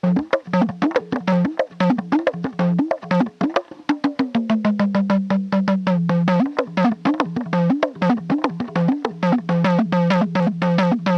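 Rapid, rhythmic hand strikes on a dimdi frame drum, pressed from inside by hand and fingers, with a resonant low tone that bends in pitch, played continuously in a lively pattern.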